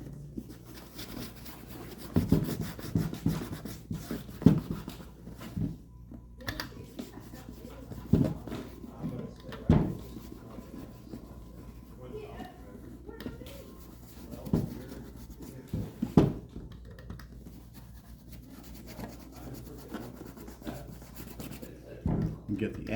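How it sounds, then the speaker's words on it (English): Tony Lama cowboy boots being polished with Lincoln stain wax, soft cloth-on-leather rubbing strokes in irregular bursts, fairly quiet, with occasional talk in between. "I'm gonna be starting polishing with Lincoln."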